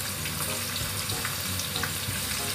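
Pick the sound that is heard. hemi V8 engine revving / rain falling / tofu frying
tofu frying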